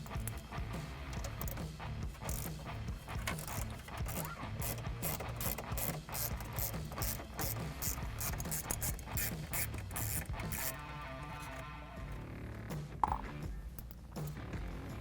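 Screws holding the CD player in a 2015–2019 Ford F150 dash are backed out with a ratcheting tool, giving steady, close mechanical clicking that runs almost without a break, eases off near the end and is capped by a single sharper click.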